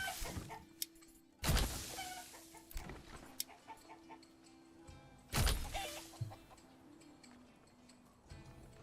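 Chickens cluck in a chicken coop in a wintry survival video game, with soft intermittent clucks mixed with occasional louder thumps and other game sounds.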